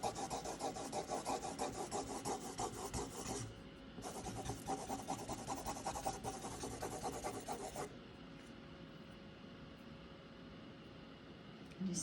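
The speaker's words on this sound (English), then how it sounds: "To break that up a little, we can go in with our tortillon." Paper tortillon rubbing across a figure drawing on paper, rapid scratchy back-and-forth strokes close up, pausing briefly midway and then stopping, leaving a quiet hum.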